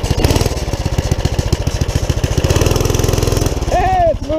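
A Carter go-kart engine idles close by, a loud, steady, rapid chugging putter for about three and a half seconds before the revs shift and a rising whine cuts in near the end.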